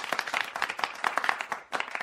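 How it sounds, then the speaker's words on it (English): A short, thin patter of recorded applause, a few scattered claps at a fairly low level, plays back on a talk show. "Thank you for that smattering of recorded applause"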